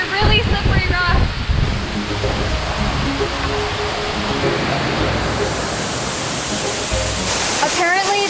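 A mountain spring waterfall pouring over slippery rocks makes a loud, steady broadband rush that fills the whole stretch, close by, with a voice talking briefly near the start and end.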